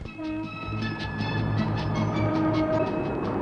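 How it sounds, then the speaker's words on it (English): A British Rail Intercity 125 high-speed diesel train runs past, loud and near, a sustained engine drone and rolling rail noise with tonal whine, steady throughout and no talk. "British Rail has produced the Intercity 125, a new generation of high-speed trains capable of 125 miles an hour."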